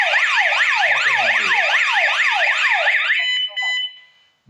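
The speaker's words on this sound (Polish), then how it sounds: "ten dźwięk syreny" A loud solar-powered alarm siren linked to an alarm control panel wails in fast repeating up-down sweeps, then cuts to a steady tone and stops abruptly.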